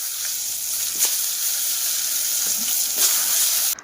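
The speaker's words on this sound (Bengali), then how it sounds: "দেখো এই যে বেগুন কেটে নিয়েছি, বেগুন ভাজা হবে, দেখো উনান জ্বালিয়েছি।" Sliced eggplant fries in oil on a clay stove at home, giving a loud, steady close sizzle that runs throughout with a couple of small pops and stops abruptly at the end.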